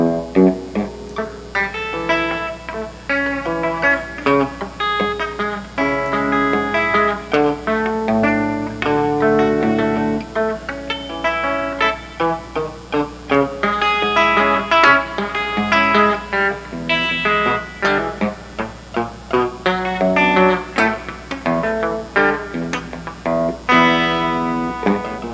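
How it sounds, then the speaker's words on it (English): An electric guitar plays the chord pattern over the bridge of a song, strummed and picked continuously with steady rhythmic chord changes, loud and close, with no talking. "You can just play that pattern over the entire bridge, the entire A bridge, and it might sound something like this."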